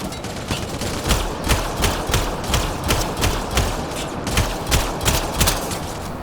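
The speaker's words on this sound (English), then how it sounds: "Sarah, shoot them!" Rapid bursts of automatic gunfire fill a Mass Effect Andromeda firefight, steady clattering shots repeating close and loud with brief gaps between volleys.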